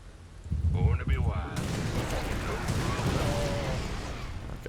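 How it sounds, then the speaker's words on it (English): Rapid bursts of gunfire and explosive impacts crackle in a StarCraft II battle, dense and continuous over game sound effects, with a voice speaking briefly at the start. "he got a couple shots off"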